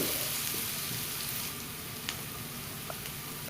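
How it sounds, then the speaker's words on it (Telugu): Ginger garlic paste fries in oil with curry leaves, a steady close sizzle with faint crackles and occasional small pops. "ఒక స్పూన్ అల్లం వెల్లుల్లి పేస్ట్ వేసి పచ్చివాసన పోయేంత వరకు ఫ్రై చేసుకోండి"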